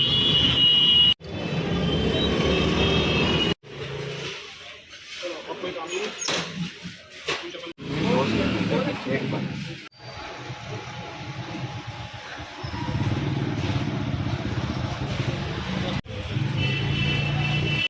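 Vehicles crawl through congested road traffic in a busy Indore market, a continuous near rumble of engines broken by several abrupt cuts, with people talking throughout.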